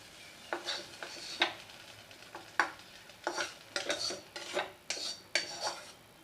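Metal spoon scraping and tapping on a plate while fried bottle gourd leaves are spread out, a series of short distinct clinks and scrapes, close and fairly quiet.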